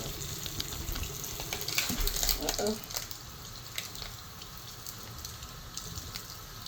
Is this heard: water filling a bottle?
yes